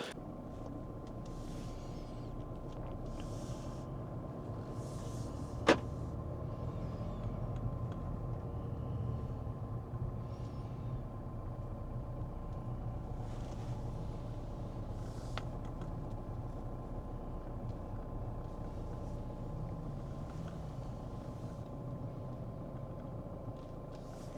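A 2020 Volvo V60 diesel with an eight-speed automatic cruises along, a faint steady low road and engine rumble inside the cabin with one brief click partway through.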